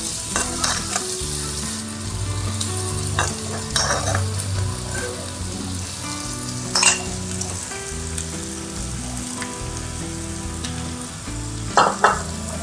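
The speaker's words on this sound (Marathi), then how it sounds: "आता आपण मिक्सरमधनं बारीक केलेलं भोपळ्याचं बाकीचं साहित्य सगळं केलेलं घालूया." Mixer-ground pumpkin peel paste goes into a hot pan with cumin and sizzles steadily, with close scraping stirs and occasional clinks of a spoon against the pan across the whole stretch.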